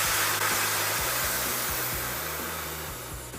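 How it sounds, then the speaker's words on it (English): Air rushes in a loud, steady hiss from a motorcycle tire's valve stem with the valve core removed. The hiss is continuous and close, easing slightly as the tire deflates. "take a little valve core remover and remove the valve core from the valve stem. That lets all the air out pretty quickly"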